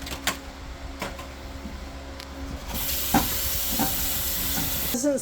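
Over a pound of blueberries is rinsed for homemade dog food, with quiet clinks and handling at first, then running water breaking into a steady, broad hiss partway through.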